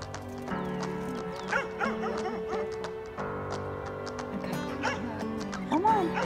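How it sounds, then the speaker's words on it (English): A dog barks a few times outdoors amid a busy, steady background of hum and tonal noise, with hoof-like clops and some faint voices mixed in. "and there's a dog."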